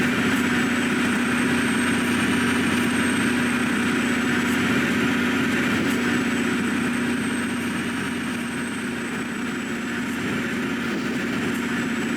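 A heavy train engine idles at Jersey City station with a steady low rumble and hum, constant and close for the whole stretch, no voices.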